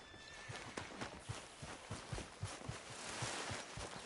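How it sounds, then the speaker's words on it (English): A horse in Red Dead Redemption 2 trots with a steady, regular clip-clop of hooves, mid-distance and fairly quiet, with faint background ambience. "My horse! Am I glad to see you?"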